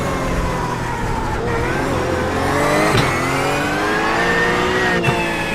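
GT3 race car engine in iRacing at Mugello, revving hard through late gear changes with rising and falling pitch sweeps, loud and continuous close-up in-car sound throughout.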